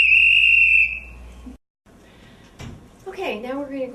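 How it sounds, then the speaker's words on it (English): A sharp whistle blast starts an exam station, loud and steady for about a second before cutting off, followed by quiet room noise and then a person beginning to speak. "get ready for the whistle to blow"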